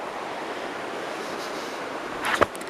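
An outdoor river runs past wet rocks as a steady broadband wash of flowing water, with a brief close thump and rustle near the end.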